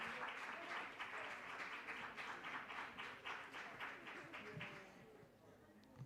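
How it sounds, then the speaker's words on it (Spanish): Audience applause at an academic symposium session, a steady dense patter of many hands that carries on for several seconds before thinning and fading out near the end. "Un aplauso para el nodo de Estados Unidos y Canadá"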